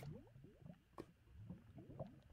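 In Minecraft, lava flows onto water with soft, wet squishing and bubbling hisses, a quiet stretch of liquid gurgles and pops with no talking.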